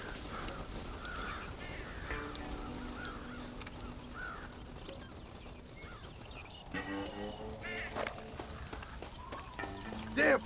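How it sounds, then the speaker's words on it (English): Crows caw in the open-world Western game Red Dead Redemption, several harsh calls spread across ten seconds over a steady ambient bed, with faint hoof-like thuds and a louder burst near the end. "Damn crows!"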